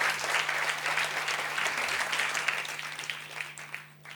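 A hall of journalists at the Cannes 2018 jury press conference claps for Chang Chen, steady loud applause that thins and fades toward the end.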